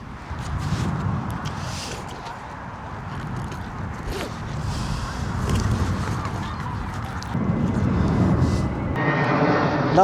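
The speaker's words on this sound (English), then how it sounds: "That was a Eurowings, which is usually going to Germany" A Eurowings airliner passes over Heathrow, its jet engines a loud, sustained roar that swells toward the end as it goes by, with no talking over it.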